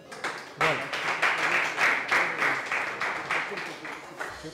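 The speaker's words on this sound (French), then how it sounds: "merci de l'applaudir." An audience at a game show event in Lubumbashi claps for a contestant who has just won a smartphone, steady irregular applause at moderate volume with a person talking over it.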